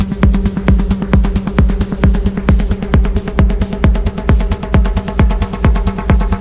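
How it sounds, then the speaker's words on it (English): A hypnotic techno loop pounds steadily, with a driving four-on-the-floor kick, crisp hi-hats and sustained droning synth tones repeating evenly throughout, loud and alone with no voices. "So here's a hypnotic techno track. I'm still in the loop stage."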